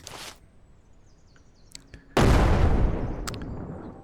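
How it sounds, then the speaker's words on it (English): A thrown grenade in the video game Surroundead bursts in one sudden, loud blast after a quiet lead-in with a few small clicks, then a rumbling decay that fades over a couple of seconds. "How far can I huck a grenade?"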